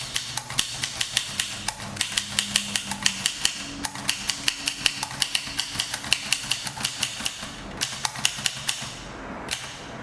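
An 1896 Williams No. 3 typewriter typing, with a rapid, fairly even run of sharp key strikes clacking close by for the whole stretch and a faint low hum underneath.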